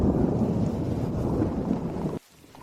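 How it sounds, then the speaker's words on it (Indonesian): Heavy rain pours down in a dense, continuous roar that cuts off abruptly near the end, leaving only faint drips and quiet background. "Zhao Zhao, ini hanya hujan saja"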